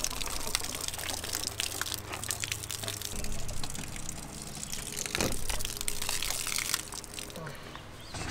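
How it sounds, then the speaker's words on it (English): Water pours from a 5-gallon jug into a camper tank in a steady, noisy rush, with gurgles and glugs under a constant wash and brief knocks from handling, nearby. "we're gonna empty the 5-gallon jug into the camper"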